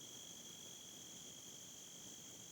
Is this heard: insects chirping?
yes